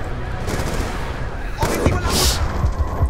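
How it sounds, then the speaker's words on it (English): Black Ops 2 campaign battle with rocket launcher fire and explosions: a steady roar of combat with dull booms and a whooshing blast in the later part, speech faintly mixed in. "Them rocket launchers coming from everywhere."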